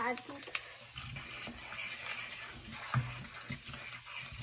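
Cumin and turmeric are stirred in hot oil for a matar paneer dish. A faint, low sizzle runs under soft stirring scrapes and light clinks.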